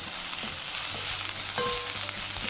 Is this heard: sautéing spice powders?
yes